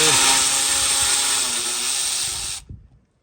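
A power tool, an impact driver, runs continuously and loud for over two seconds while removing the bumper bolts on a Jeep, then stops abruptly, leaving brief quiet handling noises.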